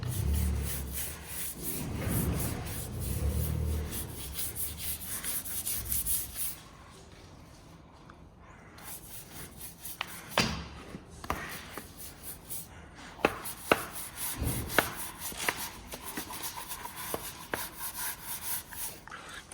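Metal being scrubbed clean with degreaser in a workshop: repeated rubbing strokes with short pauses, a few sharp knocks and clatters partway through, fairly close and moderately loud, no talking.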